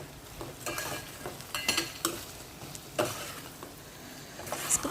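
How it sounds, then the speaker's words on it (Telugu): A prawn, egg and drumstick curry with onion and chili powder is stirred as it fries in a pan, giving a steady soft sizzle broken by several sharper scraping knocks of the spoon, close and alone. "కూర అంతా కలిసేటట్లు ఒకసారి కలుపుకోవాలి."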